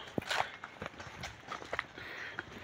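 Horse hooves clip-clopping over a slippery, rocky mountain path while carrying a heavy load, a few uneven steps close by amid outdoor noise.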